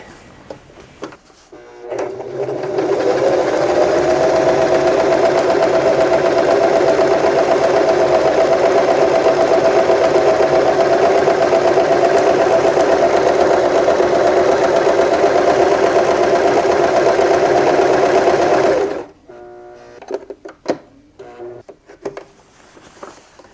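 A never-used Kenmore sewing machine running at a steady speed for about sixteen seconds, a loud close mechanical whir and hum, with quiet handling clicks before it starts and after it stops.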